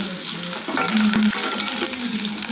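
Curry leaves sizzle and crackle steadily in hot oil in a pan for radish chutney, a loud close frying hiss lasting throughout with no talking.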